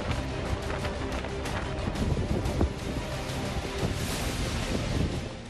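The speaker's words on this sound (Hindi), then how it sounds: "तेज हवाओं के साथ हो रही बारिश ने सब कुछ तहस नहस कर दिया" Hurricane-force winds of around 250 km/h drive rain across Florida in a dense, roaring broadband rush that barely varies, with occasional gusty surges and no voices.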